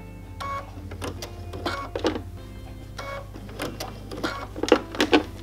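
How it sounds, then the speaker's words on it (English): A domestic sewing machine does free-motion stitching in black thread at a very short 1.4 stitch length, outlining a small appliqué eye. It runs in short, uneven mechanical bursts with brief pauses between them. "I'm just going to sew that with black thread"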